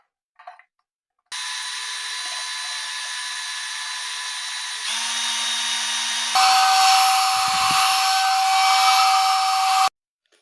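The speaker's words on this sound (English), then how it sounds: "Just going to put these screws in now. Going to use the same long shaft." A power drill with a long shaft extension drives screws, whirring steadily for about eight seconds and rising in pitch and loudness partway through, then cutting off; nearby and alone without talk.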